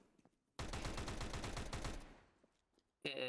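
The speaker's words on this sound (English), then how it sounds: "Whereas the Tech-9 shoots faster" A Tech-9 pistol fires rapidly in Counter-Strike: Global Offensive. A loud, fast string of shots lasts over a second, and another burst starts just before the end.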